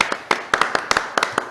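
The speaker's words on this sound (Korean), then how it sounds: "여러분들 큰 박수 한번 부탁드리겠습니다." Audience applause at a talk concert workshop, sounding as about a dozen sharp, separate claps spaced in an uneven rhythm, fairly close and moderately loud, with no talking over them.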